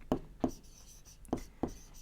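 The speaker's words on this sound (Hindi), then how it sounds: "मैं कॉपी में लिखता हूँ" Pen strokes scratching on notebook paper, four short separate bursts of writing spaced across a quiet background, close and fairly soft.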